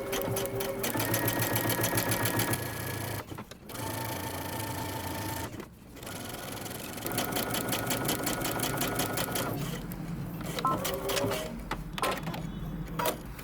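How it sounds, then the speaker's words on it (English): A sewing machine stitches a side seam on a front-zip jumpsuit, running in steady rapid bursts with brief pauses between runs, close and clear. "we're going to stitch from the bottom up"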